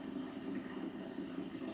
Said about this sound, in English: Okay, so we're gonna drain the whole coolant system